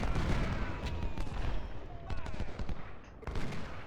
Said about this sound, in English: Skirmishers are firing too.